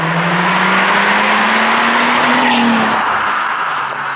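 Mercedes-Benz C32 AMG with its supercharged V6 pulls hard on the road, a loud close engine note rising in pitch as it revs up, then easing off, with some tire noise underneath.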